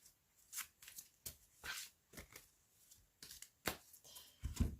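Tarot deck being cut and shuffled by hand, with a series of close, crisp riffling and slapping card bursts spaced irregularly, ending in a louder flurry of handling.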